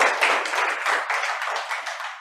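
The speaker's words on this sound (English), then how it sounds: "Can we give EmGuarde a big round of applause?" Brief burst of clapping from an audience at a training session, steady and fairly close for about two seconds with no talk over it.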